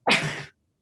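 A single short, sharp sneeze, loud and close, followed by silence.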